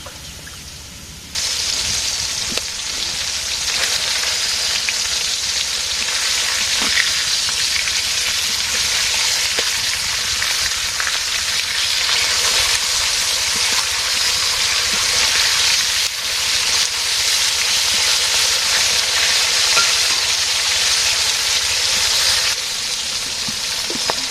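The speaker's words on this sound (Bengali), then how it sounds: "মাছটাকে ভাজবো" Fish fries in a pan, a dense, steady, fairly loud hiss of spitting oil that starts abruptly and runs without pause, with a few faint clicks, before easing slightly near the end.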